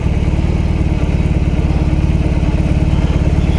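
A BMW R18 B bagger motorcycle rumbles steadily while riding, its big twin engine giving a low, even pulsing drone close by with no break throughout.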